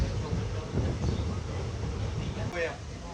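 A train pulling out of the old Lathi railway station gives a low, rolling rumble with wind buffeting the microphone, and indistinct voices sit faintly in the background.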